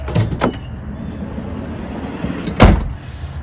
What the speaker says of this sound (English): We'll close the door.